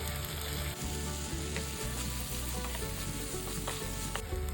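Boiled sweet corn kernels sizzle and fry in hot oil with chilli powder masala for butter corn masala, a steady loud crackle with stirring scrapes throughout and no talking.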